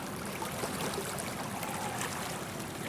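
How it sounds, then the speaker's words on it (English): Spill water from a lake rushes swiftly out of a culvert in a yard, a steady broadband wash heard close and continuous without pause. "What's coming out of my lake is coming out of this damn culvert. All the spill water."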